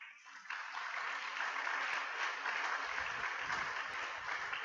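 A church congregation claps after a sermon, the applause rising quickly and holding as a broad, steady wash of many hands, slightly distant and reverberant.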